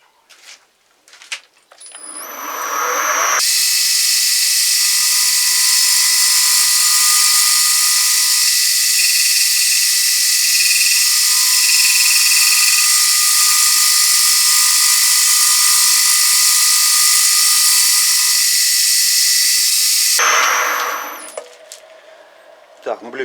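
A lathe runs steadily for about seventeen seconds while cutting a cast aluminium workpiece, giving a loud, sustained whine with a few faint tonal shifts. It is bracketed by shorter machine noise at the start and end.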